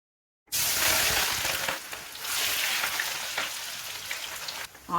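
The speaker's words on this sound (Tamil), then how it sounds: "இப்போ எண்ணெய் நல்லா சூடாயிடுச்சு இப்போ வந்து நீல வாக்கில் கட் பண்ணி வச்சுருக்கிற ஆனியனை வந்து ஃப்ரை பண்ணி எடுத்துக்க போகிறேன்" Sliced onions hit hot oil in a pan and sizzle loudly. The steady, crackling hiss starts abruptly after a brief silence and continues with small pops and bubbling.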